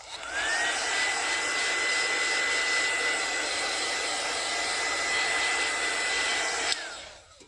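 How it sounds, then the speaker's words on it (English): A hair dryer runs steadily at close range for several seconds, blowing on Dylusions ink laid down on a gel printing plate, a constant whining drone that cuts off abruptly near the end. "I'm just going to give this just a quick, very quick dry."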